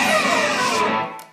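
One electric guitar pick scrape played through distortion, a dense, roaring grind sweeping down the strings for about a second before cutting off abruptly.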